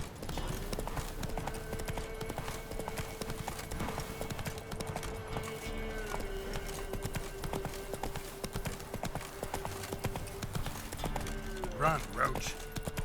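A horse gallops steadily in The Witcher 3, its clip-clop hoofbeats running continuously under a quiet game soundscape with a sustained tonal background, fairly faint throughout.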